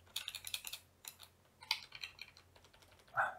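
Keys tapped on a computer keyboard in short irregular bursts while writing code for an ESP32 MQTT project, quiet and close with small gaps between clusters of clicks.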